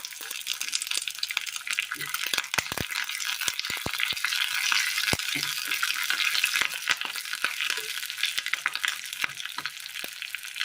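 Curry leaves and dried red chillies crackle and spit in hot oil for a Kerala curry tempering, a steady close sizzle broken by many sharp pops throughout.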